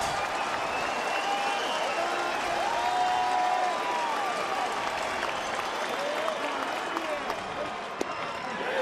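Baseball stadium crowd of more than 17,000 rising to its feet, Detroit Tigers versus Cleveland Indians, sustained applause and cheering filling the ballpark, with a commentator's voice over it.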